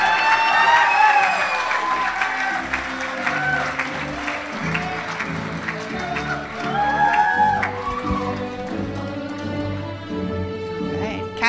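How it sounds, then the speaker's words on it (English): Sustained applause from a graduation audience honoring a senior on the high school boys volleyball team, steady and full throughout, with some cheering mixed in and a few voices rising above the clapping. "Please put your hands together for Ryan DeProza."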